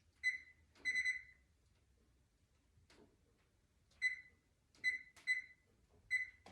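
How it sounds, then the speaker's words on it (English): An oven timer being set while baking a pecan pie gives a series of sharp electronic beeps, single and in quick pairs, clear and fairly close in a quiet kitchen. "I'm setting my timer."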